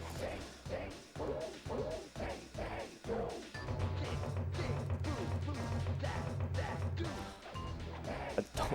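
Repeated smashing and thwacking hits ring out in the Sly Cooper and the Thievius Raccoonus video game, a busy run of crashes with a sustained stretch of clatter in the middle, and voices talking faintly underneath.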